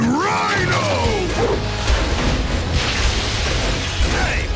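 Glass doors smashing in a Spider-Man cartoon fight with Rhino, a loud crash and bursts of breaking debris over busy action sound effects, with brief voice sounds.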